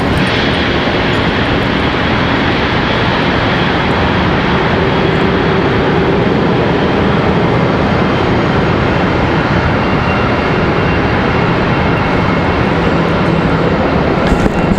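Airplanes departing Charlotte Douglas International Airport fill the air with a loud, sustained jet engine roar that holds steady across the whole stretch, broad and rumbling, with no voices.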